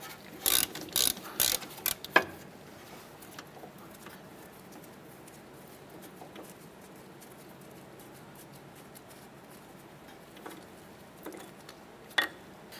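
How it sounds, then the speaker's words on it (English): A ratchet with a 10mm socket backs out the ABS brake line bracket bolt on a 2008-2012 Honda Accord, giving a few quick close clicking strokes at the start and a lone click near the end. "Using a 10mm socket, go ahead and remove our ABS brake line bracket bolt here."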